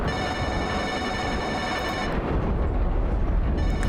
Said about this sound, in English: Oh, but we have a phone call.